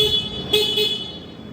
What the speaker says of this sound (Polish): Klakson.